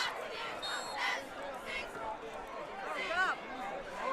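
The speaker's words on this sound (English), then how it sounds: "we're so dang close to the crowd" Spectators in the stands at a high school football game between Kings Mountain and Crest, heard up close as a loud, continuous roar of cheering and shouting with voices rising and falling across the clip.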